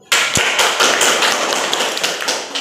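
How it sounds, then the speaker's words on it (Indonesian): A classroom full of students gives group 1 a round of applause, a dense, steady patter of many hands clapping that starts abruptly and carries on evenly throughout. "Berikan aplaus kepada kelompok"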